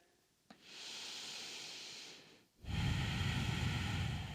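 Breathing during a post-run yoga forward fold: one long, soft hissing inhale, a brief pause, then a louder, fuller exhale that carries on to the end, close to the microphone with no talk.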